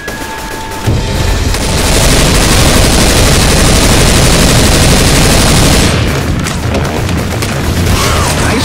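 Gunfire in Left 4 Dead 2 forms a dense, loud, continuous roar of overlapping shots and blasts lasting several seconds, then breaks into scattered reports.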